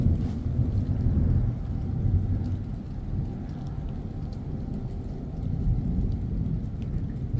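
Steady rain during a strong summer thunderstorm on 24 July 2023, a dense continuous low wash with light patter, at a constant moderate level throughout with no voices.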